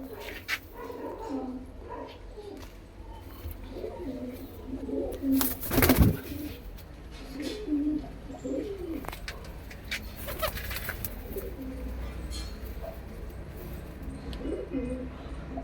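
Soft, repeated coos of pigeons kept for sale close by, with scattered wing flutters and a sharp burst of flapping midway; a dog whimpers faintly in the background.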